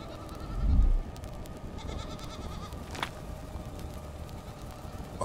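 A goat in a survival crafting video game lets out one short, low bleat early on, faint and set against quiet ambient game background noise.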